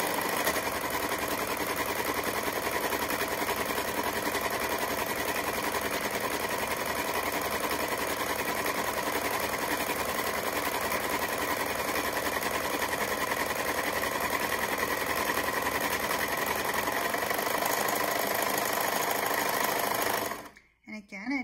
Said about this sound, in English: as I start sewing, I'm gonna ask Isabel to get in a little closer to that blade